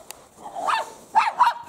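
Six-week-old puppies let out a few short, high yappy barks and growly yips, close and fairly quiet, in quick bursts.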